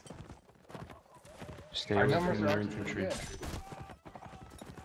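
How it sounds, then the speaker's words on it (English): Horse hooves clip-clopping in the Napoleonic Wars video game, rapid and fairly close amid battle noise, heard under excited overlapping talk between players. "Cthulhu's got a horse now."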